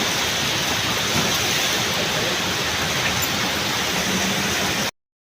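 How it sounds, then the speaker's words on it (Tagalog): Heavy rain pours at an MRT station in the Philippines, a dense, loud, unbroken hiss of downpour that cuts off abruptly at the end. "ang lakas na naman ng ulan dito sa MRT"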